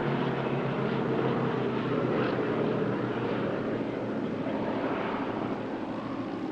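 A B-17G Flying Fortress and a Spitfire Mark 5C fly past at an airshow, a continuous broad piston-engine drone that stays loud and steady throughout, slightly roughened by wind noise.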